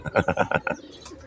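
Domestic pigeons kept by a pigeon fancier coo in a quick run of about six throaty, pulsing notes close by, then fall quiet into faint background noise.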